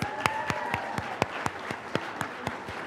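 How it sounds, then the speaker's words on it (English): A small audience at a medical laboratory science white coat ceremony claps in a sparse, steady rhythm of distinct hand claps, moderately close, for about three seconds with no talking. "let's give them a round of applause"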